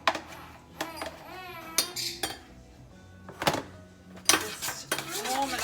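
Leftover meat goes into a metal pot during home dinner cooking, with clinks and clanks of a utensil against the pot in scattered knocks and a few ringing hits, quiet handling in between.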